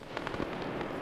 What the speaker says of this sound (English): It's a 20mm cannon.